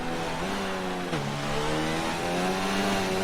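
A Formula 1 car engine at Spoon curve at Suzuka in F1 2019, a loud, close, high-pitched whine that briefly dips as the driver shifts down and then climbs steadily as the car accelerates out of the corner, with no talking.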